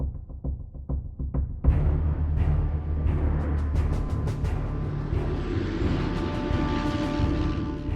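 American and British aircraft land on frozen ground at Saki airfield in Crimea in February 1945: a loud, steady engine drone and throb that starts abruptly after a few faint knocks and carries on without pause, with no talk.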